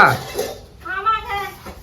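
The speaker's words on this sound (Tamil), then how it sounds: "சாயந்தரம் பாத்திரம் தேய்க்கணும்" Cooking pots and dishes being washed in a Tamil village home: a short burst of metal clattering and scraping at the start, then a voice talks over quieter background.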